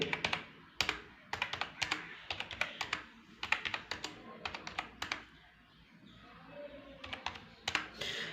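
Numbers typed into a spreadsheet on a computer keyboard: quick bursts of crisp, close key taps with short pauses between runs, heard alone without talk.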